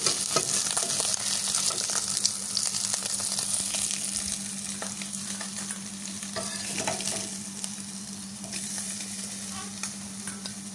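Fish pieces deep-frying crisply in hot oil for a fish and kakrol curry, a steady close sizzle with stirring clatter running throughout, loud and continuous with no talking.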